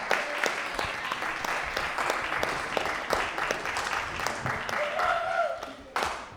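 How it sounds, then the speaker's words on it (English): An audience applauding poets at a storytelling evening, dense clapping that carries on for several seconds before tapering, with a voice cutting in near the end. "everyone clap it up for all these poets"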